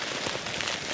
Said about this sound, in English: Pouring rain again.